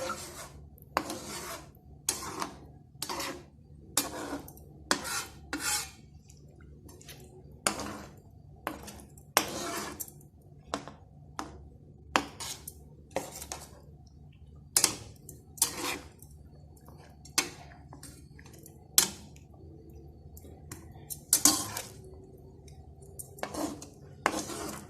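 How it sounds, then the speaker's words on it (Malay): A utensil stirs coconut milk and seasoning in a pot for Malaysian red coconut chicken curry, giving repeated close scraping strokes against the pot at an uneven rhythm over a quiet background, without speech. "Lepas tu tuang perasa, kita kacau ya, bagi rata santan tu."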